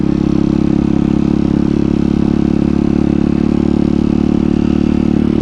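A 170 MRF Detroit pit bike engine with an unadjusted carburetor runs steadily, a loud, close, continuous mid-pitched buzz with an even rattling pulse and no talk.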